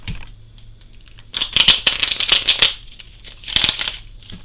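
Quick bursts of riffling shuffles of a small tarot deck, a flurry of papery flutters followed by a second shorter shuffle, close by.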